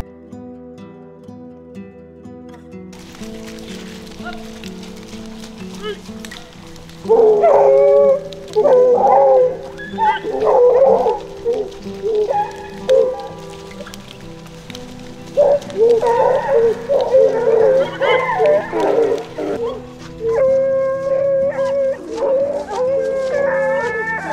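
A pack of hunting dogs baying and howling while following a wild boar trail in the French countryside, near and loud, with overlapping drawn-out howls and yelps that break off and resume in bursts.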